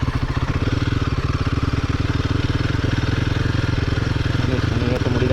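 A Himalayan 450 motorcycle engine throbs loudly and steadily up close on an early morning ride to Yelagiri hills, with an even rapid pulsing throughout and no talk.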